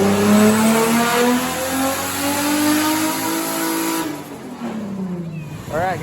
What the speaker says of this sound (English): this is going to be the first pull on 91 octane on low boost